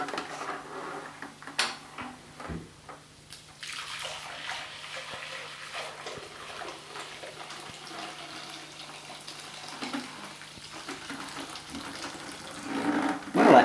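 Dirty carpet-washing water from a Vax 2100 multifunction vacuum cleaner pours into a clear Pyrex bowl in a steady, splashing stream that runs for several seconds with a few brief clinks, close and fairly loud.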